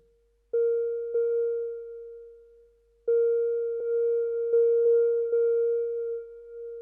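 S.K.Y. Keys plug-in playing a pure, sine-like tone at one pitch, with notes retriggered in two bursts; each phrase fades in and decays slowly, separated by a near-silent gap, clean and unaccompanied.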